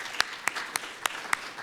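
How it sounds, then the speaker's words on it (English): Five sharp, evenly spaced claps over a faint bed of scattered clapping as an awards-ceremony audience applauds the production crew, brief and close. "If you want to turn around and give them an applause"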